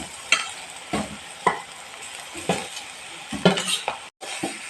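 Fried grated carrot is tipped into a hot pan and stirred, sizzling close up, with repeated scrapes and clinks of a spoon against the pan at an uneven rhythm.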